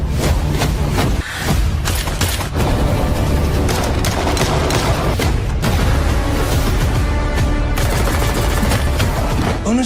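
Dense bursts of gunfire rattle nonstop, mixed with heavy booms and blasts, loud and chaotic throughout like an action scene.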